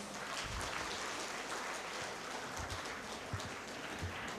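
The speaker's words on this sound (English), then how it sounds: "Please give them another round of applause." Audience applause after a classical arts performance by a college contingent, a fairly faint, even patter of many hands clapping with no voices over it.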